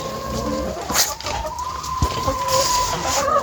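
Chickens cluck and murmur close by in a village farmyard with a steady tonal hum in the background and a few soft knocks.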